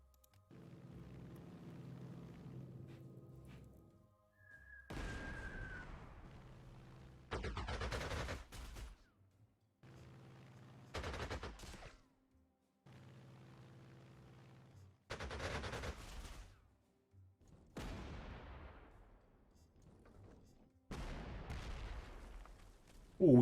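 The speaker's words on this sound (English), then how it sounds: "we got lucky on that artillery strike" Artillery strike in the strategy game Panzer Corps II: a series of loud booming blasts and rumbling volleys arrive in separate bursts with short quiet gaps between them, and no voices are heard.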